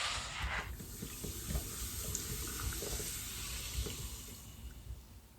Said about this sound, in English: I was pouring iron brew into the sink